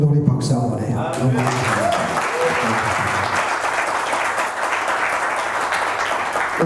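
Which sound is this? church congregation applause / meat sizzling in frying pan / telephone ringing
church congregation applause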